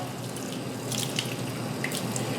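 Hot tap water runs steadily over knife sharpening gear, a DMT 600 grit sharpening plate being rinsed clean, giving a continuous close splashing hiss with faint drips and no talking.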